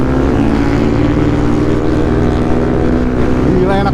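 Yamaha WR155 motorcycle ridden fast at night, a loud continuous engine drone with strong wind buffeting and a slight rise in pitch near the end, close and unbroken.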